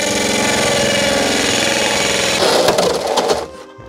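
A drill spins a hole-saw cutter into a carbon fibre Altezza bonnet, giving a loud, steady grinding whine that roughens and rattles as the teeth bite, then cuts off and falls away near the end.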